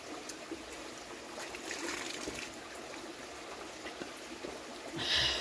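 Mountain spring water trickles in a soft, continuous flow outdoors, faint and steady with small splashes and no talking.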